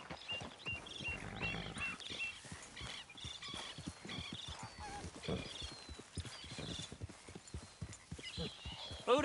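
Horse hooves clop steadily as a rider travels in Red Dead Redemption 2, a close rhythmic gait running throughout with a few snorts and other animal noises mixed in, no talk.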